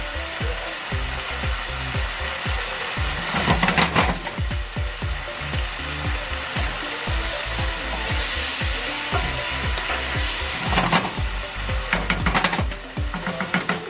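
Pinot Grigio wine splashed into a sofrito pan sizzles steadily and loudly throughout, with rhythmic scraping and stirring knocks from a utensil; no one speaks.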